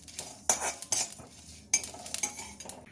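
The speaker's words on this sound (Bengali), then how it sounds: "ভেজে নিচ্ছি মশলাটা" Spices for a starfruit pickle are stirred and fried in a pan, with repeated scraping clinks of a metal spoon against the pan over a faint sizzle, close and with no voices.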